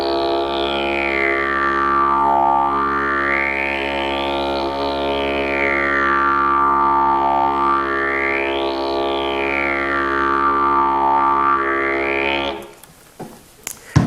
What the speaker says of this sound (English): The phasing tone is generating an overtone with your mouth that comes through the didgeridoo as a secondary note.